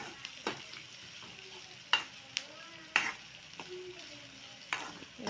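Onions fry in a pan for garlic kuzhambu, a soft sizzle broken by occasional sharp scrapes and stirring clicks, quiet and close, with no talk.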